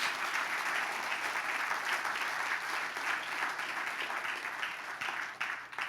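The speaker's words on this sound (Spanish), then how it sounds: "Dele fuerte el aplauso a Dios" A church congregation applauds steadily in a dense, continuous wash of clapping that holds for several seconds without a break, at moderate loudness and with no voices over it.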